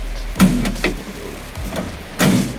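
Door of a UAZ 469 off-road vehicle opened and shut, with a sharp close clunk near the start, a softer rattle in the middle and another solid thud at the end.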